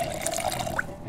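Water trickles and gurgles into a container in Project Zomboid, a short, close burst of filling liquid with bubbly drips, heard alone without talking.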